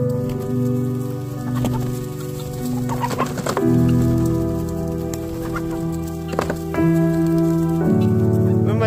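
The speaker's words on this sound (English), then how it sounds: "that's a lot of chickens" Many chickens cluck and squawk together in a loud, continuous clamor, with sharp calls cutting through a steady background din.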